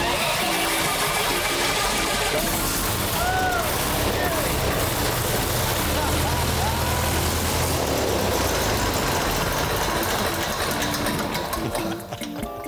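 A wagon sled engine runs loudly and continuously close by, a dense mechanical drone with a steady low rumble throughout, while voices can be heard over it.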